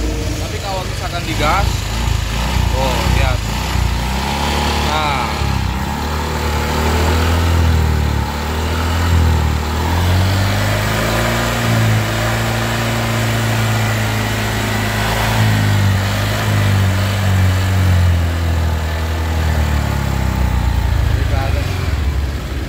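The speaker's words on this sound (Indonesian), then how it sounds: "motor dihidupkan dalam keadaan idle sih biasa aja biasanya" A motorcycle engine with a suspected leaking head gasket idles steadily and close by with a low, even running hum, while someone talks over it for most of the clip.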